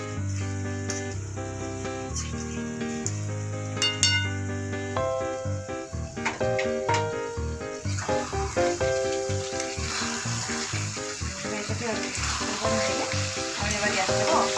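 Chicken sizzles in ghee in a pan, a steady, close frying hiss that runs the whole way through beneath prominent tonal background music.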